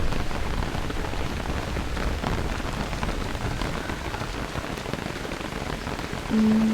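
Steady rain falls in the video game Don't Starve: Hamlet, a dense, even hiss of drops on surfaces that carries on without a break and swells slightly louder at the very end.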